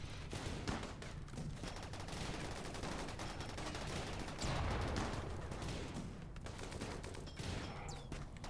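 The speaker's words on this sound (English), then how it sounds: "they're using an incendiary launcher against this thing" Rapid bursts of gunfire and incendiary launcher shots crackle through a RimWorld firefight, dense and continuous, with heavier thumps rising near the middle and no talking.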